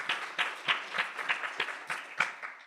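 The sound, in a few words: audience applause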